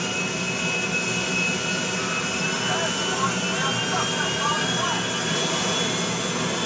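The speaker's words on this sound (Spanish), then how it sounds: "Los aviones comerciales en este juego son una basura" Jet engine roar from a commercial airliner in GTA V on PS3: a loud, steady, broadband whine and rush that holds unchanged throughout, with no talking.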